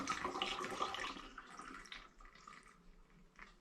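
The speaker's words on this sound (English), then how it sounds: "it's simply a case of just pouring in through a funnel" Gin being poured through a funnel into a litre bottle, a steady close trickle and splash of liquid that is louder at first, then thins to a lighter flow with small bursts.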